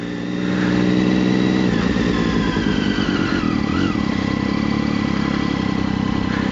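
A motorcycle engine putters along at slow riding speed, a loud, steady mid-pitched drone with slight rises in revs, continuous and close.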